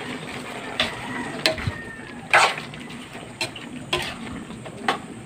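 Squid is stirred with bamboo shoots in a frying pan, giving a steady sizzle broken by sharp clicks and scrapes of the utensil against the pan at irregular intervals, with no voices.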